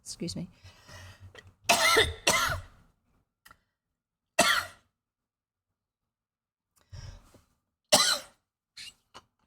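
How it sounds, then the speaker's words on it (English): A person coughs several times in harsh, separate bursts with quiet gaps between them, close to the microphone. "And suddenly you have to have a cough."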